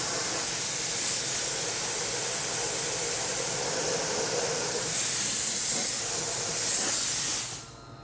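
Dry ice blasting cleaning the undercarriage of a BMW E36 M3, a loud, continuous high-pressure hiss that swells slightly twice before cutting off abruptly.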